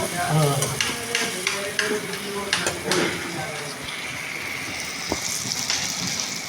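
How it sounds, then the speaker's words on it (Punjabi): Masala stirring and roasting in a pan for dhaba-style shahi paneer, with a soft sizzle, scraping and stirring strokes under a steady frying hiss. "ਫਿਰ ਅਸੀਂ ਇਹਨੂੰ ਇਦਾਂ ਹਲਾਈ ਜਾਣਾ ਥੱਲੇ ਨਹੀਂ ਲੱਗਣ ਦੇਣਾ"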